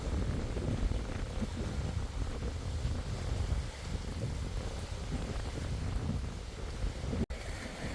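Strong wind blows outdoors at a temple in Ubon Ratchathani, Thailand, a steady, heavy rumbling buffet across the microphone that continues throughout with only a brief dropout near the end.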